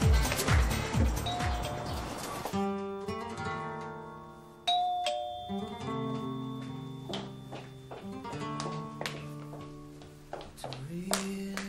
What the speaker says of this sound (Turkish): Zili çalıyorum.